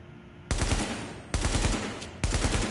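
In The Division's firing range, three loud automatic bursts from the AK and L86 rifles rattle out back to back, each a rapid stream of close, punchy shots with brief gaps between strings.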